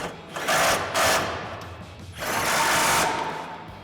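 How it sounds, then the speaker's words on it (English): An 18mm socket on a long extension tightens bumper bolts on a 2020-2026 Chevrolet Silverado 2500, giving a few short, close mechanical whirring bursts with pauses between them. "Now we've got our 18mm socket with the long extension. We'll tighten down these bolts."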